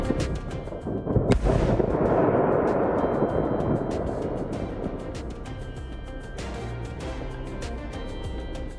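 A massive explosion erupts at a fireworks warehouse in Yolo County, a sudden deep blast followed by a long rolling rumble and a steady stream of sharp crackling pops and bangs at a distance.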